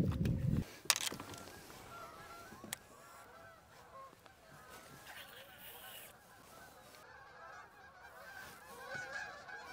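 Geese honk near a lake, with a loud burst of honking at the start and fainter calls continuing under steady outdoor ambience and some talk.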